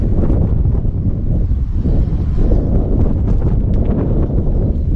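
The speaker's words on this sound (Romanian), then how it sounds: "Bat un pic vântul rece." Cold wind blows near the ocean in New Zealand, a loud, steady roar buffeting the microphone with gusty low rumble throughout and no talking.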